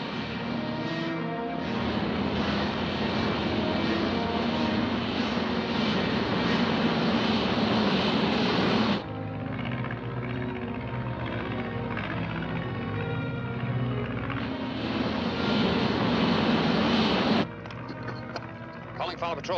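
A vertical-takeoff jet plane taxis and takes off with a loud, continuous engine roar that drops briefly and then surges again, with talk heard over it.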